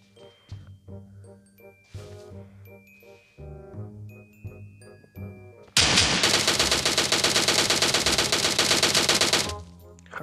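A dense, sustained burst of rapid gunfire from PUBG Mobile, loud and continuous for several seconds, preceded by quieter game sounds and musical tones.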